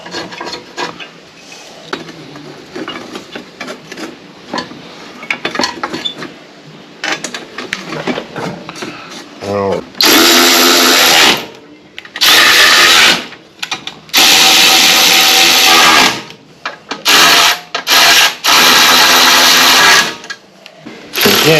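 A ratchet tightens the shroud bolts on an 8 hp snow blower in a workshop: a quieter spell of light clicking and handling, then several loud, dense bursts of rapid ratcheting with short pauses between them.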